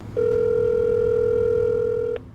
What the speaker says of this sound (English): We called the phone number